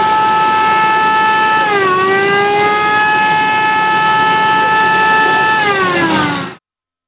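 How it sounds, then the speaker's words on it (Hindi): A loud electronic siren on a rickshaw ambulance wails continuously, its pitch dipping and rising in slow swoops before cutting off abruptly. "ये देखिए ये मैंने सायरन भी लगाया हुआ"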